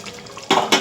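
A spatula scrapes and clanks twice against a pan while paneer is stirred into a finished curry gravy, two short, loud metallic strokes over faint background.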